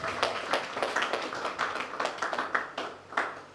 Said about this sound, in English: A round of applause for yourselves.